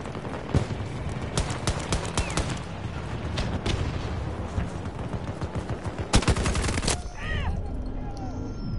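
Gunfire in Battlefield 2042, a near-constant rattle of automatic weapons with sharp, loud individual shots punching through, close and busy, voices talking faintly beneath the battle.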